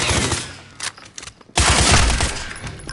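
Call of Duty gunfire, a loud burst of rapid shots, then a short lull with scattered impacts, then another sustained heavy volley close up.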